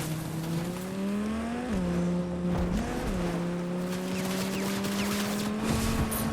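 A car driving in the video game Fortnite, a steady droning engine hum that shifts pitch a few times as it revs and settles, loud and continuous throughout.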